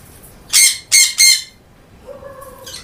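A weak pet bird being hand fed squawks loudly three times in quick succession, close to the ear. A short, softer tonal call follows after a pause.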